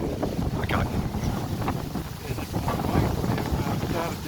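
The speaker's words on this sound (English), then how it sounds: "It's a bit windy here." Gusty wind buffets the microphone outdoors at a building site, producing continuous rumbling low-end roar that swells and dips, with faint voices underneath.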